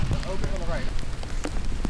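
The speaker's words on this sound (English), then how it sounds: "it is raining out." Rain falls steadily at an outdoor disc golf game in a park, a broad continuous hiss of drops on the ground and gear, with faint voices briefly under it.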